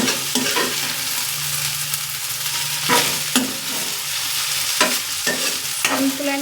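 Spice mixture frying in a pan for okra curry, a continuous sizzle with repeated scraping stirs of a spoon against the pan at irregular intervals, close and clear with no talking.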